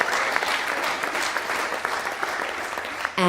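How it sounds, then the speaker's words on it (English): Wedding guests burst into sustained applause and cheering in a reception hall, a dense steady clatter of clapping that stays loud throughout before a brief swell at the end. "Give him another cheer."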